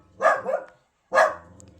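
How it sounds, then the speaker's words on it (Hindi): A dog barks twice at night outside a house during a wedding send-off, two loud, close, separate barks with a brief pause between them. "तब जाके यहाँ पे केशु भौंक रहा है।"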